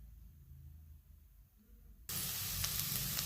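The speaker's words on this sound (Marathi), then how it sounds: "आणि कांदा आपल्याला एक 2 ते 3 मिनिटं परतून घ्यायचा आहे" Finely chopped onion sautés in a hot pan for a mixed vegetable dish, a loud, steady broadband sizzle that bursts in suddenly after a quieter stretch and holds close and even to the end.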